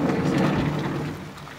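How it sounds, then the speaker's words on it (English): Heavy rain pouring down outdoors beside a parked camper van, a steady dense wash of noise with a low rumble, loud at first and easing slightly toward the end, with no talking. "Alright, so it's absolutely pissing it down."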